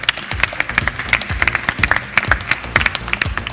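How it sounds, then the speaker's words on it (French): Audience applause for Game Jam teams at a youth event, a lively, close crowd of hands clapping continuously with distinct individual claps popping out. "On va faire un gros applaudissement pour les équipes qui n'ont pas gagné mais qui se sont bien dépensées"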